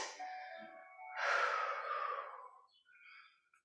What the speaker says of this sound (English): An extended, long, audible exhale out.